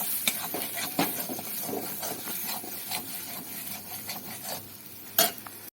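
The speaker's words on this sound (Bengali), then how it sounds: "এইভাবে কড়াইতে আরেকটু ভেজে নিলে এর স্বাদটা দ্বিগুণ হয়ে যাবে। তাই আমি এটা ভেজে নিলাম।" Small shrimp paste frying in a kadai, a steady scraping stir with sizzle and repeated spatula rubs against the pan, close and fairly constant, with a sharp clatter near the end.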